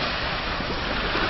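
Sea waves wash onto the beach at Exmouth after dark, a steady, continuous surf rush that fills the whole moment without breaks, with some wind noise mixed in and no voices.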